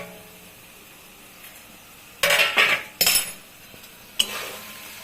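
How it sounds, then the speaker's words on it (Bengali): A lid lifted off a pot of goat liver stir-fry cooking over a medium flame, a few sharp close metallic clanks and scrapes breaking a quiet background. "এখন ঢাকাটা তুলব।"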